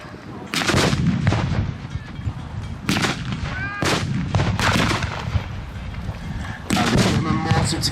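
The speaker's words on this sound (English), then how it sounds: "here come the mortars." Mortar shells fire and land among troops during a Soviet-front battle reenactment at Frontline Sedgefield 2017: sharp, loud blasts burst out at irregular intervals over a continuous rumbling background of battlefield noise.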